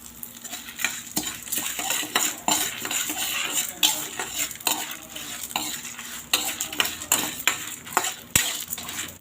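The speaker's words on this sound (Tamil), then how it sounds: "பாருங்கள், நம்ம சேர்த்த பருப்பு, மிளகாய், பூண்டு, தனியா, சீரகம், மிளகு, உப்பு எல்லாம் வறுத்துட்ருக்கோம்." Dry-roasting bitter gourd podi ingredients, lentils, chillies, garlic, coriander seeds, cumin, pepper and salt, in a pan, with a spoon scraping and stirring steadily and close up, dry rattling and clinking in an irregular rhythm, no voices.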